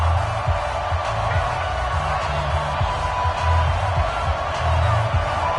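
A stadium crowd in an EA Sports football video game cheers in a dense, continuous roar, with low rhythmic thumps pulsing beneath the broad crowd noise.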